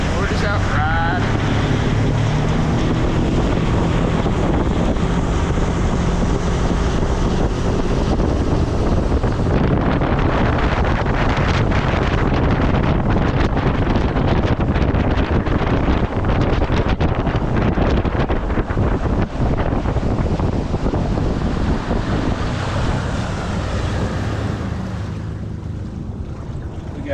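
Boat motoring across Lake Sinclair on a catfishing outing, with steady loud wind buffeting the microphone and water rushing past the hull throughout, easing slightly near the end.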